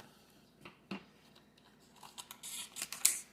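Scissors snip and crinkle through the plastic packaging of a beef roast, a few faint cuts giving way to quicker, louder snips and rustling near the end, with no talking.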